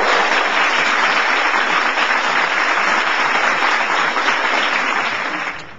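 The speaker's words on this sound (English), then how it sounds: "Ladies and gentlemen, how about a round of applause for Miss Bette Davis?" A studio audience gives sustained, even applause for actress Bette Davis on a talk show, loud and dense from start to end before tapering slightly.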